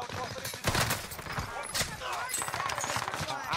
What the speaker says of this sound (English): Danny is getting shot at